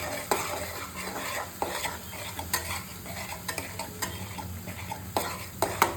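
A spatula stirs a tomato and garlic gravy in a pan, making repeated scraping and clinking strokes at an uneven pace over a soft, steady sizzle.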